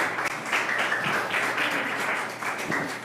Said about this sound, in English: You can applause.